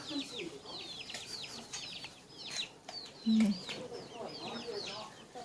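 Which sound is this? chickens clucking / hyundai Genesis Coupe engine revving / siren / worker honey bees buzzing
chickens clucking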